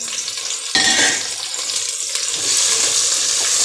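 Pieces of drumstick (moringa pod) hiss and sizzle loudly in hot oil with tomato while they are stirred, the frying sound swelling after a sharp stir near the start.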